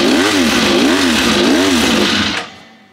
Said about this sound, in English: that sounds more rattly than an RC45